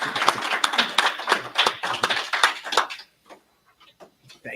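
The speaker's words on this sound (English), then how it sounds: "Round of applause." Audience at a county council candidate forum clapping for about three seconds, a close and lively burst of applause that then thins to a few scattered claps.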